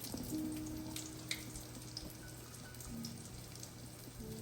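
Breaded chicken frying in a pan, a soft continuous crackle and sizzle like light rain, with scattered faint pops and clicks near the microphone.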